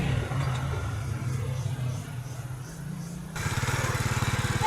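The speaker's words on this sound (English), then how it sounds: "Here, struggling to master a motorbike." A rented motorbike that is hard to start and jumpy runs nearby, a steady low putter that sharpens into a louder, faster pulsing burst near the end.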